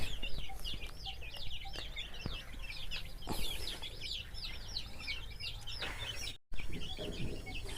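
Many young Bhimavaram chicks cheeping continuously, rapid repeated high-pitched peeps from a close flock, steady throughout with one brief dropout near the end and no speech.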